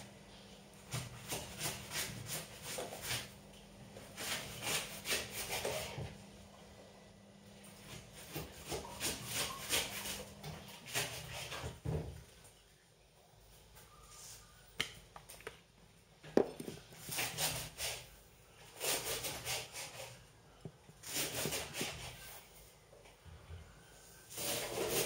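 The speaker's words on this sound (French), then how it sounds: "Il faut bien prendre le temps de découper les poireaux." A kitchen knife slices leeks on a board in quick bursts of close, soft chopping and crisp cutting strokes, broken by short pauses, with faint background hum.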